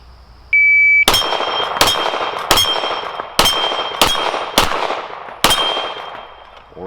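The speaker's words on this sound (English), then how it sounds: "try the Canik Mete on the plates. 12 yards, 6 shots" A timer beep, then six Canik Mete SFx pistol shots fired at steel plates from 12 yards on an outdoor range, each loud crack followed by a bright metallic ring, spaced roughly half to one second apart.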